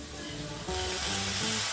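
Drained Gobindobhog rice hits a pan with lightly fried moong dal, a close, steady sizzle that swells louder partway through as the grains are tossed, with no talking.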